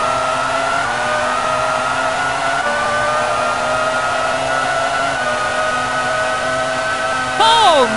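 A Formula race car accelerates at Interlagos in a video game, its engine holding a steady high-pitched whine that climbs gradually, with a short rising-and-falling tone burst at the end.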